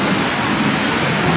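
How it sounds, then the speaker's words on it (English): Steady broadband hiss of heavy rain falling during a storm in Montego Bay, Jamaica, a dense continuous wash with no voices. "Oh, the rain came back."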